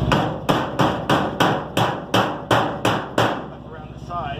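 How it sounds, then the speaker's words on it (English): A hammer strikes metal being formed around a new axle on a garden trailer under repair, nine loud evenly spaced blows about every third of a second, then a quieter tail. "And now I'm going to form this metal"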